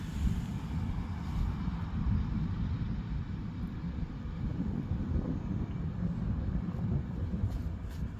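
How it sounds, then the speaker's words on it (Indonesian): Steady outdoor wind roars and buffets the microphone with continuous low rumble for the whole stretch, an open breezy setting like a beach, with no talk over it. "Ini anginnya enak ya Revinya?"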